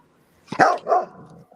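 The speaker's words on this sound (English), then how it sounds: "was Milo bark, wasn't it? No, that was George and Penny" A dog gives a single loud, close bark with a short second yelp right after, then a faint rustle in an otherwise quiet room.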